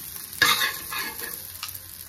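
A spatula scrapes and stirs flattened rice with fried peanuts in a pan, with a sharp opening scrape followed by lighter rustling strokes and faint sizzling.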